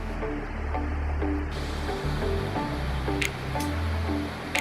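A mountain creek along a hiking trail, believed to be Snowbird Creek, rushes with a steady broadband wash of flowing water, close and continuous, with a few faint sharp clicks or bird chirps on top.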